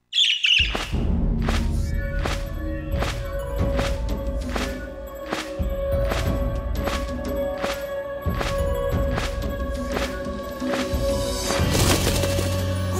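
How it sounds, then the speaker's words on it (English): A bird in the video game Trails of Cold Steel 2 gives rapid, repeated squawks and sharp calls over a continuous musical score, ending in a burst of louder fluttering noise. "It's the bird I saw in the Capitol!"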